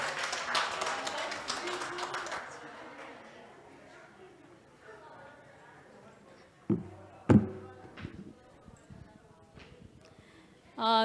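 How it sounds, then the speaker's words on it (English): Audience applause at the closing ceremony of an international conference on sustainability and innovation, a dense burst of clapping at the start that thins and fades over several seconds, followed by a few scattered sharp knocks and the start of talk. "Give her a round of applause."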